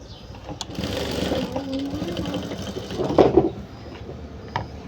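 A sewing machine stitches piping onto the neckline of a blouse, a close running whir with a brief louder burst partway through, and a voice faintly underneath.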